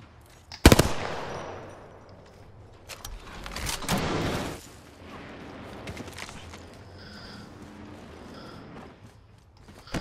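Gunfire in a shooter video game, a sharp loud burst near the start followed by a rattling volley and scattered lighter shots and clatter fading into quieter background noise.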